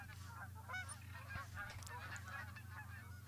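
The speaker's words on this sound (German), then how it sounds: "Und überall das Geschnatter der Gänse." Flock of geese honking and chattering constantly in theHunter: Call of the Wild, Hirschfelden reserve, many overlapping calls near and far over a steady low hum.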